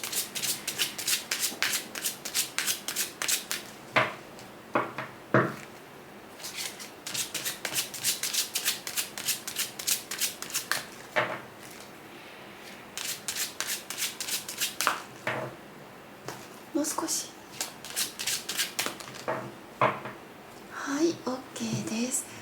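Lenormand cards are shuffled in repeated quick riffling bursts with short pauses between them, close and crisp, with someone speaking softly at times.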